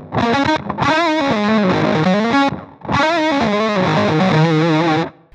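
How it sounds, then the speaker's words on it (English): Electric guitar through octave distortion with a touch wah sweeping its tone on each note, two loud played phrases separated by a brief gap. "When we turn this on, we've got a touch wah now."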